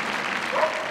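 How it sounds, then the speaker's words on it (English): Crowd applause and cheering at the Crufts Dog Show international large agility jumping event fill the arena as a steady, even wash of clapping. It swells slightly near the end. "Give her a cheer, come on, Tanya."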